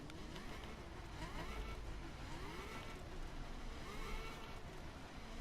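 Engine of a customised Ferrari F12 Berlinetta in the racing game The Crew, a continuous dense roar with rising and falling revs throughout and no talking.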